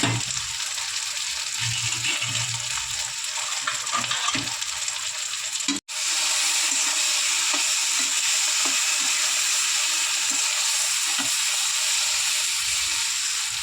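Spices and a spoonful of turmeric sautéing in a pan for a ridge gourd and small puti fish curry, giving a steady, close, even sizzling hiss that cuts out for a split second midway, then resumes.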